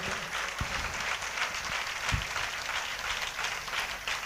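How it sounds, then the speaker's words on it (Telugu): A church congregation claps together at a Christmas service, a steady wash of massed applause at moderate distance with a few sharper individual claps standing out. "అందరం చప్పట్లతో దేవుని గణపరుస్తామా?"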